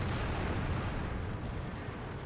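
A Centurion Mk. 1 tank cannon firing in World of Tanks: a heavy, broadband blast and rumbling boom filling the clip, loud and dense with no talk.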